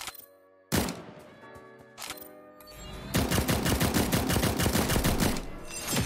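Gunfire in the Cyber Hunter video game: two heavy single shots with ringing tails, then a loud, sustained rapid burst of automatic fire, close and dense.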